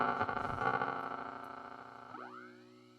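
Recovery Effects Shortwave vintage modulation pedal on its type B setting, giving broken radio-like tones: a warbling distorted chord that fades, then a sweeping pitch bend into a sustained wobbly drone.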